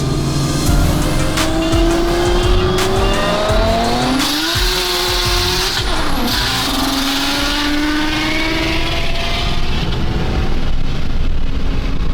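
An old BMW E21 races past at high speed, engine roaring and revving with tires squealing, loud and continuous with pitch sweeps as it accelerates.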